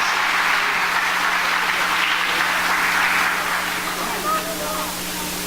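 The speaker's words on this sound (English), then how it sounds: "Let's give her a big, big round of applause, please." An audience at an evening concert of a school of music applauds the Minister of Culture with sustained, dense clapping that fills the clip, while a voice speaks faintly through it near the end.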